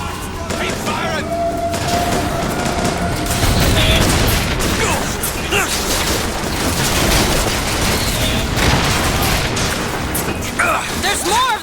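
Sustained gunfire and bursts of combat in BioShock Infinite, with booms and rapid shots layered densely and continuously throughout, loud and close, with shouting voices mixed into the battle.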